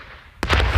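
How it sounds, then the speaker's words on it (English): A sharp explosion bursts out of quiet on a former battlefield in Ukraine, one sudden loud blast followed by a rumbling, crackling tail. "Watch out, explosion."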